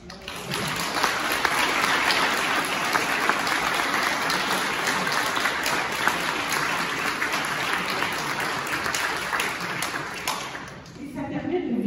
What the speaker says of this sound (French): je voulais aussi qu'on applaudisse André